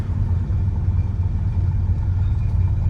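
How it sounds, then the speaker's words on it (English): A 1984 Porsche 911 backdated to '77 RSR/ST spec, with a 915 gearbox, runs with a steady deep engine rumble heard from inside, loud and constant throughout. "We'll now do an open throttle, you know, second, third, a little bit of fourth"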